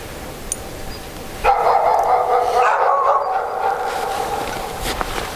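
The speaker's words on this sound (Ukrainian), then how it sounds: "собаки. Такі неогомонні." Dogs bark and yip in a sustained burst at a moderate distance for a few seconds, then fade out, with no talking.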